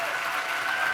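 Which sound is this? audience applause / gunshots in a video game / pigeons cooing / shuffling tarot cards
audience applause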